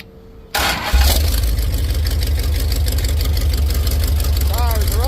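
A big block 440 engine in a Cushman build cranks and fires for its first start, catching at once and settling into a loud, steady rumbling idle close by, with no talk.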